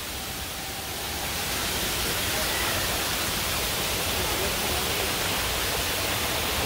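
A waterfall at the Busch Gardens theme park roars as a dense, steady broadband rush that swells slightly in the first seconds and then holds constant, with no clear voices over it.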